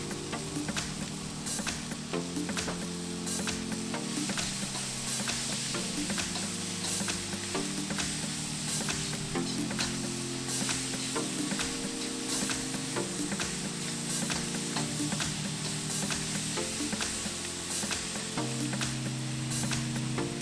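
Chicken with Thai chilies stir-fries for a Sichuan chili chicken, giving a steady, close sizzle with scraping stirs over continuous background music.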